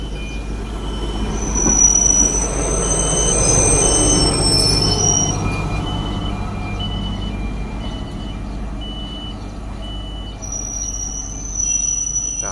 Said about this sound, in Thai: หรือรถตรวจทางนะครับ ที่ผ่านสถานีอิสยา ในเวลาตีห้า สอง นาทีนะครับ